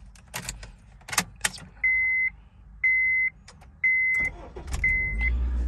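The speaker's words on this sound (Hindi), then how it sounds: "गाड़ी को मैं करता हूँ जी स्टार्ट" A 2007 Honda Civic is started from inside the cabin: keys rattle and a few sharp clicks, then four evenly spaced electronic chimes, followed by the engine catching with a low rumble that settles into a steady idle at the end.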